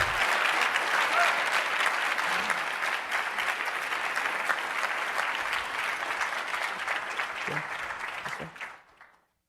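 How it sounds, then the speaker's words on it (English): A conference audience applauds loudly, many hands clapping in a dense sustained roar that holds for several seconds before tapering off and stopping abruptly. "let's give him another round of applause, because that's amazing"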